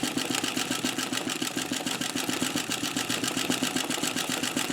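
An embroidery sewing machine stitches steadily, with a fast, even needle rhythm that continues at a constant level for the whole stretch and has no talking over it.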